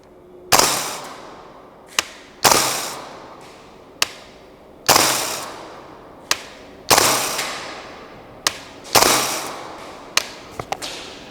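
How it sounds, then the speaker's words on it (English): A Radian Model 1 gas blowback airsoft rifle fires five shots during an accuracy test: crisp, loud cracks spaced about two seconds apart, each followed by a short ringing decay, with a few fainter clicks between. "And that was our 5 shots."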